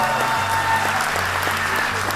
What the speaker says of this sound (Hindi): एक बार जोरदार खुद के लिए ताली बजा दीजिए